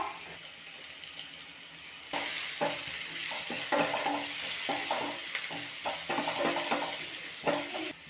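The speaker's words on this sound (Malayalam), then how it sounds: "സവാള ശരിക്കൊന്ന് വഴണ്ട് വരണം കേട്ടോ" Onions sautéing with salt in hot coconut oil, a steady sizzle with intermittent stirring scrapes and clicks that grows louder partway through, with no talking.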